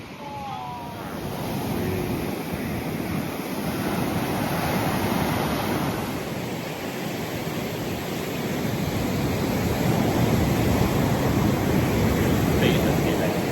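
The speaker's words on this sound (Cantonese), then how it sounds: "啲浪比鏡頭上要更加大。" Ocean waves break steadily on a beach along Hong Kong's MacLehose Trail, a continuous roaring wash of surf, with wind buffeting the microphone throughout.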